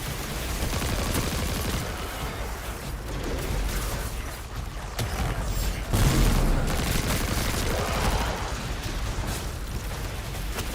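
Rifle firing in the video game Destiny 2: rapid, continuous bursts of gunfire with booming impacts amid dense battle noise, loud and sustained, with a heavier blast around the middle.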